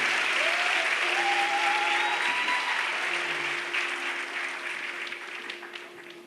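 Applause from an audience at an inter-school Iqbal Day competition final in a hall, dense steady clapping that slowly fades, with a faint tone lingering beneath.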